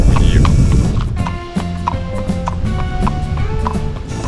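Worn horseshoes of a horse clopping along an asphalt mountain road in Georgia, a steady rhythmic run of hard hoof strikes close by over outdoor background noise.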